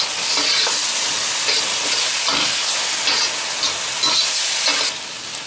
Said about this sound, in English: I'll mix it well